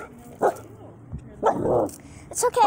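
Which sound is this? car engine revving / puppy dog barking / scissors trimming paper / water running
puppy dog barking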